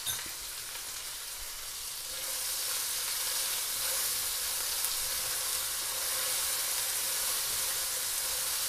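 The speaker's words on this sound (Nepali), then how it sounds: "प्याजलाई हल्का भुटिसकेपछि चाहिँ फेरि लसुन र अदुवा क्रस गरेको हालिदिन्छु" Onion, crushed garlic and ginger frying in a pan, a dense, steady hiss that swells louder after the first couple of seconds and holds, close and alone.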